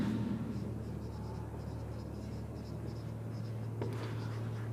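A pen writing a theorem by hand on paper, giving soft, steady scratchy strokes in short repeated bursts close by, over a constant low hum.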